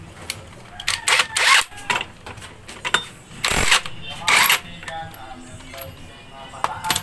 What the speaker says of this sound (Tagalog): Tanggalin natin to gamit yung ating 22mm na socket wrench.